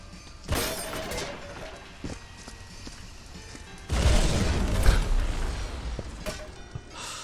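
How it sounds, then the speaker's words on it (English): Dynamite blast in the video game Viscera Cleanup Detail: a sharp crack early on, then a heavy, rumbling explosion with debris that lingers for a few seconds. "set the dynamite off again"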